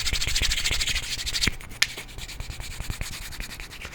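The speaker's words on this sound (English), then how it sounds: "Rub 2 sticks together? No, 2 Jenga sticks." Two wooden Jenga sticks rubbed briskly together close up, giving a dry, rhythmic scraping and sanding rasp that slows to softer, separate rubbing strokes partway through.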